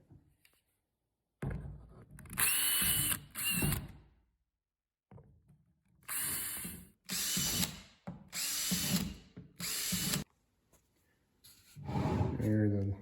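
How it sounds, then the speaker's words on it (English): A power drill bores holes in the lid of a worm bin in several short, whining bursts separated by pauses. "the holes are drilled in the top"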